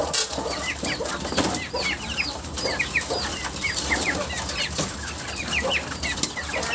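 Laying hens cluck continuously in a busy poultry shed, many birds overlapping close and far, with occasional wing flaps over a steady low background hum.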